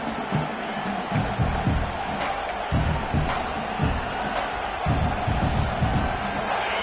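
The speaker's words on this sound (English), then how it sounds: "The crowd elevating its energy, willing this defense to get a stop on this big 3rd down." A college football stadium crowd roars on a big third down for North Texas, its dense cheering holding steady and loud throughout, with rhythmic swells of noise.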